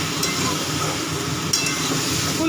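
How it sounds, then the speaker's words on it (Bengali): Small-cut cauliflower florets fry lightly in a pan for a cauliflower korma, giving a steady, even sizzle that holds at one level throughout with no talking. "ফুলকপিগুলো দিয়ে একটুখানি হালকা ভাজা করে নেব"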